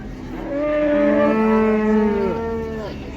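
At a livestock market in Taraz, bull calves moo in one long, loud, drawn-out bellow with overlapping tonal calls, close by and without talk.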